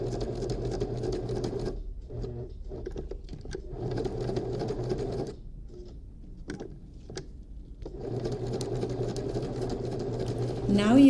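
A sewing machine stitches a tote bag seam at a large stitch length, running in steady bursts that pause twice between them, close and fairly loud.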